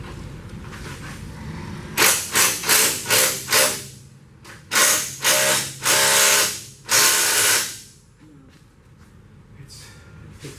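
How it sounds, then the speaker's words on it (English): Small impact wrench fitted to a 1965 GMC pickup during a coil-spring and truck-arm suspension conversion, firing in a quick string of short rattling bursts followed by three longer ones, loud and close with no talking. "I'm going to give it a little hit with this little baby impact"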